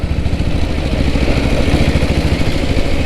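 A Royal Enfield Bullet motorcycle engine idles steadily nearby, a low, even rumble with a fast pulsing beat and light mechanical clatter throughout.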